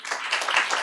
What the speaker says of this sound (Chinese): 那是不是我们也掌声欢迎陈处长。